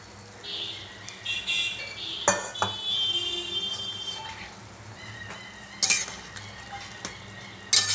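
Fried pointed gourd pieces tipped into a boiling curry gravy of soybean and potato, giving a run of moderate stirring scrapes and clinks of utensil on pot over a steady simmering bubble, with a few sharper metallic knocks.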